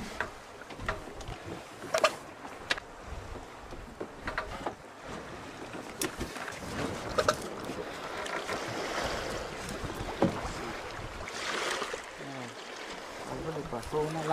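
A motorboat passes on the sea near people removing barnacles from sea turtles, its broad rumbling wash swelling midway and lasting to the end, with wind and water noise and occasional voices over it.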